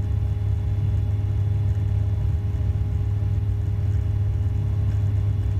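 Steady low drone of a light aircraft engine held at about 4,600 RPM in flight over Edenvale Aerodrome, loud and constant from inside the cabin with no speech.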